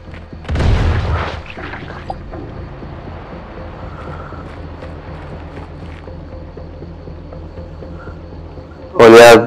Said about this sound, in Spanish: Ya va a explotar, ya va a explotar.